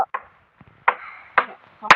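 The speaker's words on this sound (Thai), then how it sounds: "เห็นยาตอกตะปูไหม" Hammer blows driving nails into wood on a work site, four sharp knocks spaced irregularly over two seconds, close and fairly loud with brief ringing between strikes.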